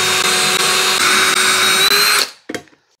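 Cordless drill driving screws to mount heavy-duty casters on a workbench, a steady loud whine running continuously for about two seconds before stopping abruptly, followed by a brief short burst of the motor.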